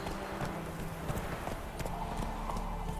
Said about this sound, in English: El caballo viene por el agua.